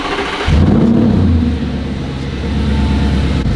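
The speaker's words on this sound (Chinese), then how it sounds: "Audi 的 V8 这颗引擎真的声音" An Audi 4.2 V8 revs loudly and alone, the engine note swelling in a strong burst after a brief moment and then holding a rough, throaty drone through the rest of the clip.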